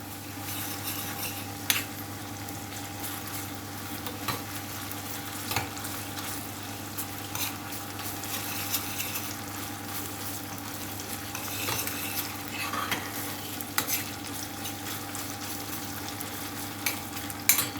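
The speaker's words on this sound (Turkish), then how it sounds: "Böyle silme bir yemek kaşığı da salçamız var. Bunu da güzelce burada biraz kavuralım." Tomato paste frying in a pot for green lentil soup while being stirred, a steady close crackling sizzle with scattered spoon scrapes and clinks against the metal throughout, no voices.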